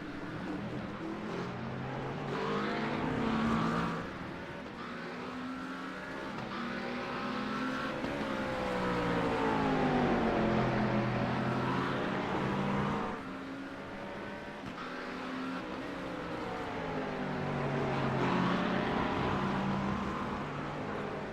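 GT3 race cars, a Mercedes and a McLaren, roar around the Imola circuit, their engines rising and falling in pitch through gear changes and passes, loud and continuous with no talk over them.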